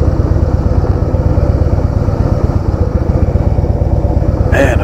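A 2016 Harley-Davidson Softail Deluxe rumbles steadily under way, its low, loud engine throb continuous and close with a dense pulsing rhythm throughout, a brief clatter near the end.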